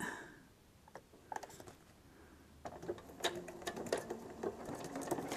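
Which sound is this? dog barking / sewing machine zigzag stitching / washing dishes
sewing machine zigzag stitching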